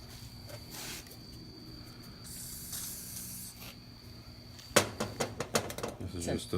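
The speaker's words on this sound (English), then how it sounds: "So he says he's going to go get some bug spray and try bug spray." An ancient aerosol can of bug spray hisses in a few bursts onto hazy glass, fairly quiet, and is followed by a cluster of sharp handling taps and rattles.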